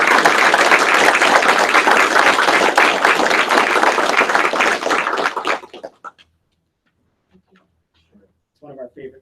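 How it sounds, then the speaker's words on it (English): Board meeting attendees give a loud, dense burst of applause for retiring staff that carries for several seconds and then cuts off abruptly, leaving near silence with a few faint rustles and murmurs. "So I'd like to have a round of applause and honor all."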